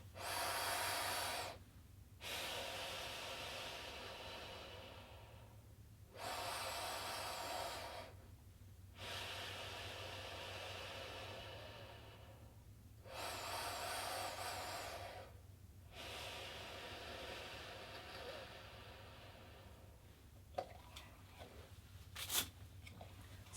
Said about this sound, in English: really try and breathe in those 2 seconds nice and strong, and then 4 seconds breathing out